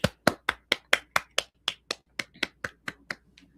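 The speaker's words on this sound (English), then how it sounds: "So for that, I'm going to give us a round of applause right now." About fifteen sharp hand claps at a quick, even pace, close and crisp, as if from one person or a very small group, with no talking over them.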